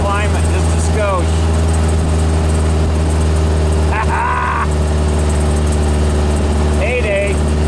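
Volkswagen 1600 dual-port engine running in a car: a loud, steady mid-pitched drone with a strong, even hum, while brief higher chirps and voices appear over it.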